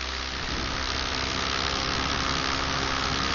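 Paramotor engine droning steadily in flight over the Pacific Northwest, a loud, continuous broadband roar with no breaks, heard alone without talk.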